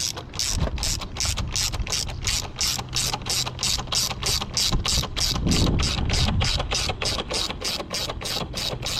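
A ratchet tightening the clamps on a car's VRSF charge pipe coupler clicks in a fast, steady run of close, loud strokes, with no talking over it.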